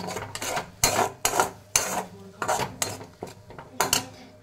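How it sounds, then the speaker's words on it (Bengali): Spice paste stir-fried in an oil-filled pan, a metal spatula scraping and knocking against the pan in repeated irregular strokes, close and fairly loud, with a soft sizzle underneath. "এবার মশলাটাকে আমার ভালো করে কষতে হবে।"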